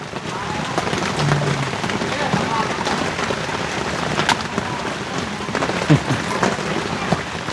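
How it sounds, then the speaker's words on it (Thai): Steady heavy rain drums on a small hut during a storm, a dense continuous patter close by with scattered louder drips, and faint voices underneath. "มื้อนี้ถือว่าบรรยากาศดีแล้วบัดนี้ตอนฝนตก"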